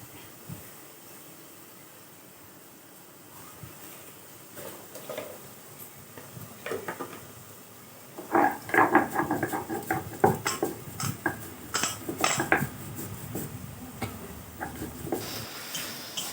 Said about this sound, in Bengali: আমি পোস্তটা বেটে নিই।